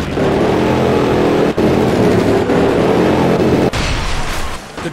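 NHRA drag racing engines roar at Maple Grove Raceway, a continuous, extremely loud, close blast of engine noise with brief dips, fading at the end.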